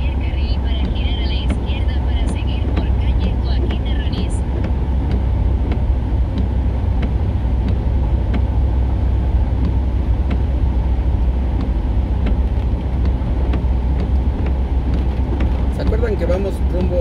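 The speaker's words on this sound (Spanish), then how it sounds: "Autos mojando sus lindas llantas." Cars drive through a heavy downpour on wet city streets in Xalapa, a steady loud wash of tire spray and engine rumble with rain hiss throughout.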